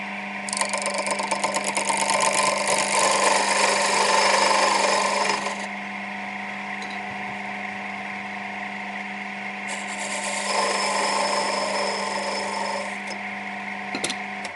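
A woodturning lathe cuts wood while turning a rhombic dodecahedron Christmas decoration, giving a steady hum with a rougher cutting hiss that swells, eases off, then returns, close and clear, with no talking.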